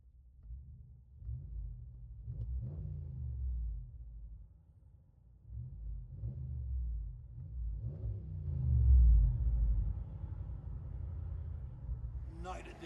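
A 2021 RAM 1500 with a 5.7L HEMI V8, dual exhaust and muffler delete, heard from inside the cab: a deep, muffled exhaust rumble that swells with revs in several pulses, peaking near the end.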